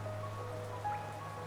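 Steady soft rainfall in the video game Hollow Knight, a faint continuous hiss of drops with low ambient hum underneath and no talk.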